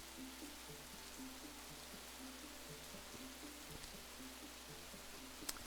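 Soft steady rain falls in the video game Rising World as a faint, even patter with a quiet looping tonal background and a small click at the end.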